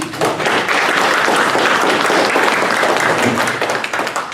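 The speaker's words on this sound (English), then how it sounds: "let's give her a round of applause." Workshop audience in Pohnpei giving a round of applause, a loud, dense and continuous patter of many hands that stays steady for about four seconds before easing slightly at the end.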